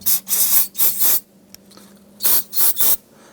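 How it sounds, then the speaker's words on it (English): Short hissing sprays of solvent from a spray can onto a power steering line on a 2005-2007 Ford Five Hundred, two pairs of bursts separated by a pause, loud and close with a bright airy rush. "I'm just going to give this a spray with some solvent."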